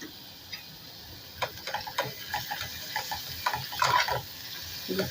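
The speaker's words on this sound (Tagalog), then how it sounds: "Gisa ko muna yung onion. Tapos, lagyan natin yung ampalaya." Onion and bitter gourd (ampalaya) being sautéed in a small clay pot, with soft scraping and stirring clicks over a faint, steady sizzle, up close and without talk.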